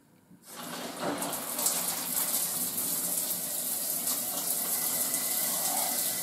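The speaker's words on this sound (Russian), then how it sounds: "Включаем теплую воду." Shower tap water starts after a brief quiet moment, then runs in a steady, loud broadband rush that continues to the end without a break.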